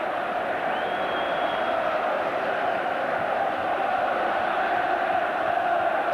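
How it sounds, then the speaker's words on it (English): A massive football crowd of about 36,000 at St James's Park roars after a Newcastle goal against Brighton in 1983, a dense, steady wall of cheering and noise throughout with a brief whistle-like tone early on. "So this massive crowd celebrate a great goal and another win."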